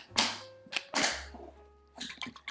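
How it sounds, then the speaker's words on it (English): A plastic lid pressed onto an airtight container holding tofu and marinade, making a few sharp snapping clicks, close and fairly loud, with brief rattles and shaking afterward. "Put the lid on"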